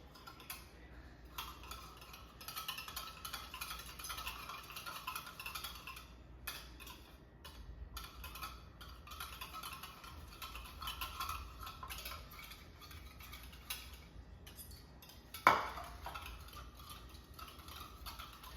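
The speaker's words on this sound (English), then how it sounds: "Now we're gonna whisk. Make sure you whisk it really good." Whisking a meat loaf mixture in a bowl: quick, steady ticking clinks of a utensil against the bowl, close and fairly quiet, with one sharper knock near the end.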